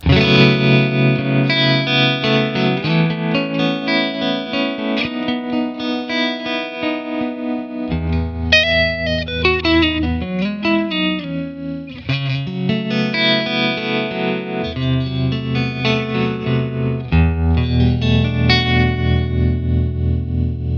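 An electric guitar played clean through the tremolo effect of a TONEX FX pedal, sustained chords and notes pulsing in fast steady volume throbs, loud and close with no talk.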